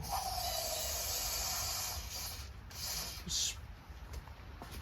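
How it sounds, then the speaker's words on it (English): Penetrating oil is sprayed into the spark plug hole of a seized Yard Machines single-stage snowblower engine: a steady hissing spray for about two seconds, then softer, intermittent hissing and faint bubbling, fairly close. "Spray the spark plug hole."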